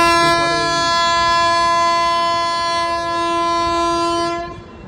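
The Silchar Special passenger train near New Farakka sounds a long, loud, steady horn blast over its rolling rumble, close by, before the horn cuts off at the end.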